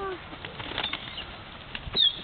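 Birds flap their wings at a marina in a few soft, brief bursts of fluttering against quiet outdoor background.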